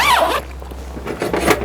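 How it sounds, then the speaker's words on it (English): A zipper pulled open on the window of an iKamper Skycamp 4x rooftop tent, a short close rasping zip in the first moment, followed by quieter handling and rustling of the tent fabric. "Just going to unzip it."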